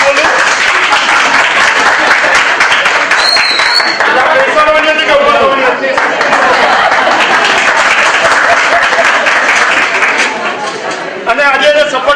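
An audience at a 25th wedding anniversary surprise party applauds, loud continuous clapping from many hands filling the whole stretch and fading slightly near the end, with voices mixed in.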